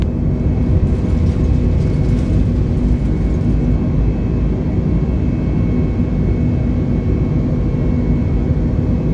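Airliner in Microsoft Flight Simulator rolling down the runway and climbing out after takeoff: a loud, steady broadband jet engine roar with a low rumble, holding constant throughout.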